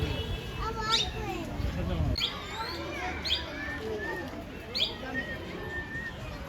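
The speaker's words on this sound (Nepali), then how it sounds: "ट्विसिस सुगा भन्छ यसलाई।" Shrill squawks and chirps of a parrot in a zoo ring out every second or so, with fainter bird calls and a low rumble in the background.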